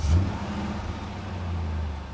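A car engine turns over and catches, settling into a steady low idle, close and fairly loud throughout.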